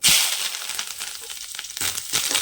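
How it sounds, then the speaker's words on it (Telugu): Curry leaves frying in hot oil for a Telugu buttermilk rasam with fenugreek powder: a sharp, bright sizzle that bursts loud at first, then crackles and spits on and off close by. "నెక్స్ట్ మనం కరివేపాకు వేసి సగదేద్దాం"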